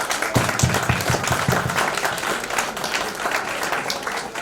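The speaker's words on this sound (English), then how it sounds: "give a big round of applause to yourselves" A large audience at a state-level CA students' conference in Kumbakonam breaks into sustained applause, dense clapping filling the hall steadily throughout, with a few sharper claps standing out near the start.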